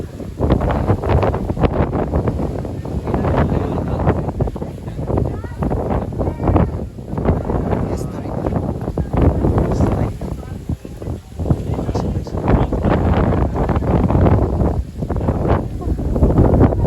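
Strong wind buffets the microphone in a loud, continuous roar with gusty surges, heavy low rumble dominating the whole stretch, at a grotto overlook in Dingalan, Aurora.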